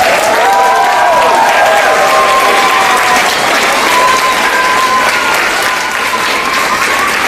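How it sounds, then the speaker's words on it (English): Loud, sustained audience applause fills a school hall after a fourth and fifth grade music performance, dense clapping from a crowd with a faint cheer, no speech. "And I'd also like to give a big round of applause to Mr. Young."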